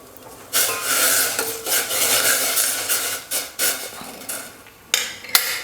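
Finely chopped tomato tipped into a pot of boiling water for Mysore rasam, then stirred with a spoon, giving a run of scraping, rasping metal-on-pot strokes and light clinks, fairly close and loud, with no talking.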